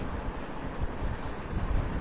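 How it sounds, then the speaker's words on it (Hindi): Cold, strong wind blowing on a sunny afternoon, a dense, rumbling rush buffeting close by with no pauses, steady and fairly loud throughout. "ठंडी हवा, तेज ठंडी हवा चल रही है, और हवा की आवाज तो जरा सुने हम लोग"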